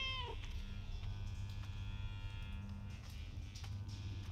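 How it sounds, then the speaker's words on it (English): Hair clippers buzz faintly in the background as a low, steady electric hum, with a brief cat meow near the start. "who got the clippers going on in the background?"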